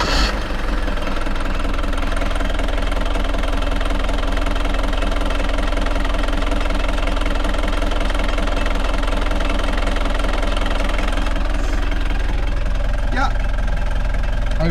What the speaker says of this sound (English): push that throttle cable back and I'm gonna let it idle again for a while